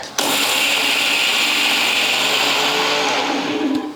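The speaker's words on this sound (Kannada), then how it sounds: "ಸಕ್ಕರೆ ಮಿಕ್ಸಿಗೆ ಹಾಕೊಂಡು ಪೌಡ್ರ್ ಮಾಡ್ಕೊಳಕತ್ತೀನಿ" A kitchen mixer grinder powders sugar with a few cardamom pods, a loud, steady high-pitched whirring roar that runs continuously for about four seconds before cutting off near the end.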